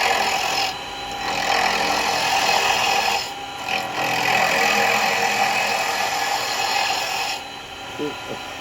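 A 40mm R2 square chisel held as a skew slices wood on a lathe while turning a ballerina spinning top, giving a steady rasping, scraping cut in long passes broken by brief pauses.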